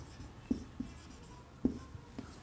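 Pen or pencil writing out an answer on paper, a few soft scratchy strokes and light taps spaced irregularly, close and quiet with no talking.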